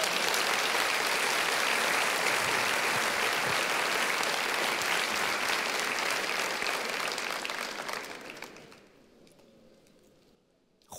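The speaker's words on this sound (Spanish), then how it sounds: "Dale un aplauso fuerte al Señor" A church congregation applauds loudly and steadily in a sanctuary during a sermon, a dense wash of many hands clapping together that holds for about eight seconds and then quickly dies away to near silence.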